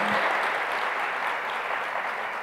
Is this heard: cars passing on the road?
no